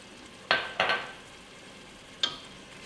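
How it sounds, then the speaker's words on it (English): Pasta sauce stirred in a pot with a spoon: two close scraping strokes early on and a single shorter one near the end, over a faint steady simmer with no talking. "We stir a little bit,"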